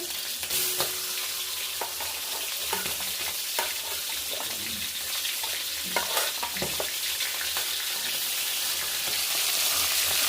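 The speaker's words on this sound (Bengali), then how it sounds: "তো চিংড়ি মাছগুলো আমি এখন ভেজে নেব।" Shell-on lobster prawns fry in hot oil with a loud, continuous crackling sizzle, broken by sharp pops and a few stirring clinks at close range.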